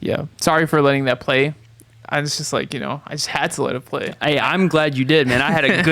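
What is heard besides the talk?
None of the usual background noises is heard.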